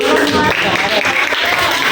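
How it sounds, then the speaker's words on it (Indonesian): Students in an Indonesian classroom give a short, brisk round of applause, dense close clapping that runs the whole moment while voices carry over it. "Tepuk tangan sekali lagi"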